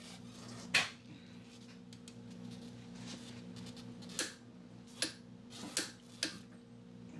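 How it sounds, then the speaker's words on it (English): A torque wrench tightens the rear axle nut on a Lincoln MKX: a few sharp metallic clicks and ratchet ticks spaced irregularly over a faint steady hum, close and without talk. "we're going to torque that axle nut 203 foot-pounds"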